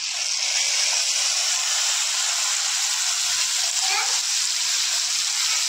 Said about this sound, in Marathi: आता बघा टोमॅटो व कांद्याची पेस्ट टाकून घेऊया ग्रेव्हीसाठी